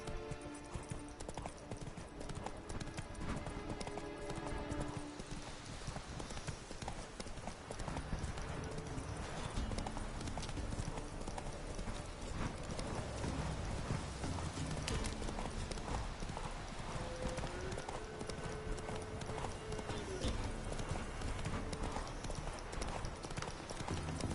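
Horse hooves clip-clop steadily throughout a Witcher 3 game session, a continuous rhythmic trotting under dense game ambience, with faint neighing at times.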